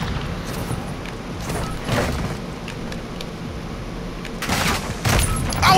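Gunfire from a secondary weapon in a shooter video game, heard as scattered bursts of shots with a few louder volleys near the start and end, set against steady game noise with no talk.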